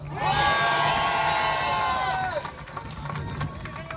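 A protest crowd in Brussels cheers and whoops loudly, a dense wall of voices swelling at once and then slowly thinning out as shouts trail away.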